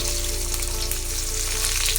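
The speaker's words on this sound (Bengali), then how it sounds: "ফোড়নে দিলাম জিরা, তেজপাতা, গোটা লঙ্কা, তারপরে দিলাম পেঁয়াজ কুচি" Cumin, bay leaves, whole dried chillies and chopped onion fry in hot oil for egg khichuri, making a loud, steady, close sizzle with no pauses.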